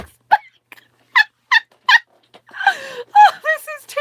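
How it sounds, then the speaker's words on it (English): A rooster's short clucking calls come in several separate bursts close by, followed by a longer run of rising, wavering vocal cries. "Sometimes the rooster talks back."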